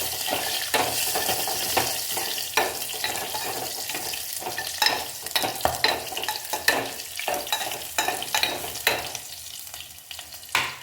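Tomato rasam with a slit green chili and crushed garlic stirred in a hot pan: a continuous close sizzle with rhythmic scraping strokes of the spoon throughout, and no talking.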